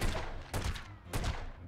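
Two loud bursts of gunfire from The Godfather PS2 video game, each a sharp blast with a short rumbling tail, spaced about half a second apart over steady background noise.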